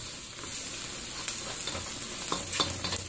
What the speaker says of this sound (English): Just mix this well.